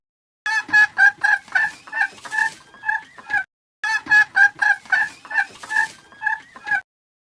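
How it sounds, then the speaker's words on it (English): A hen clucks in a rapid series of sharp, close calls, a run of about ten, a short pause, then another similar run. "Hen."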